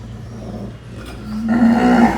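Gir cows in a cowshed lowing, with a low drawn-out moo followed by a louder, rising, sustained moo close by, and no talk over them.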